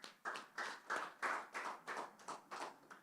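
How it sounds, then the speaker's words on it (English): An audience at a literature prize press conference bursts into applause, with steady rhythmic clapping rising and falling in several waves, fairly close and alone with no talking. "A round of applause, please."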